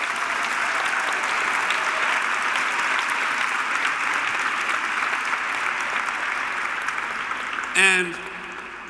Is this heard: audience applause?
yes